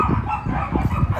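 Dogs bark and yip close by on a sheep farm, a quick burst of several sharp barks over a busy background.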